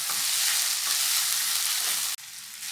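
Minced meat stir-fries with wood ear mushrooms for Sichuan mapo tofu, a loud, dense, continuous sizzle that cuts off abruptly near the end to a quieter hiss.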